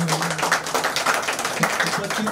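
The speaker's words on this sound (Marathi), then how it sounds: "जोरदार टाळ्यांचा गजर होऊ द्या या ठिकाणी" Audience applause at a felicitation ceremony in Pali honouring meritorious students, a steady wash of many hands clapping close by for a couple of seconds, with faint voices mixed underneath.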